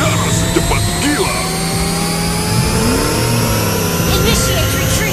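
A car engine revving and accelerating in Mobile Legends, a loud mid-pitched whine that rises and falls under the game's announcer voices and effects.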